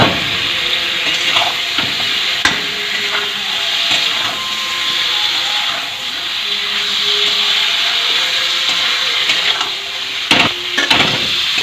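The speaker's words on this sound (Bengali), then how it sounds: "এবারে দিয়ে দেওয়া হচ্ছে চিকেন" Chicken goes into a hot pan for chicken kosha and fries with a loud, steady sizzling hiss, broken by a few sharp clatters near the start and end.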